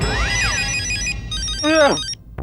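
A melodic phone ringtone chimes in repeating electronic tones, loud and close, with a brief sliding warble near the end before it cuts off.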